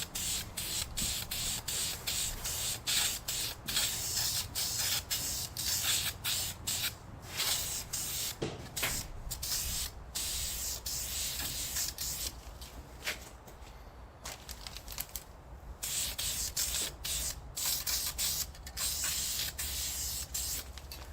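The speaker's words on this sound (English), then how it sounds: "I'm going to go ahead and get a coat of paint on these and get that drying" Grill slats for a 1964 Ford Thunderbird are spray painted in a run of close, hissing bursts from a spray can, short sprays and brief gaps repeating for about twenty seconds with no talking.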